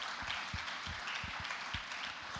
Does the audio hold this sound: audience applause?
yes